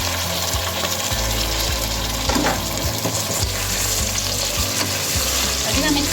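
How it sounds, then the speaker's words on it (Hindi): Home-raised desi chicken with garlic and ginger fries in a pot in a loud continuous sizzle, with a low rhythmic bubbling underneath and occasional stirring scrapes, and no one speaks. "अभी हम इसको 2 मिनट के लिए फ्राई कर लेंगे इसमें"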